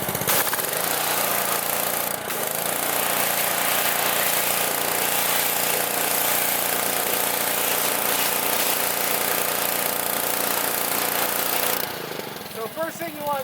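A high-pressure sprayer blasts grime off a car engine before degreasing, a loud, continuous rushing hiss with a brief dip, ending abruptly into quieter sounds with a faint voice.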